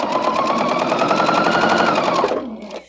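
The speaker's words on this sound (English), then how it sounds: "So I want to make sure I sew 1/4 inch to each side." A sewing machine stitches quilt blocks with a 1/4 inch seam: a rapid, even mechanical chatter, loud and close, running steadily before slowing to a stop near the end.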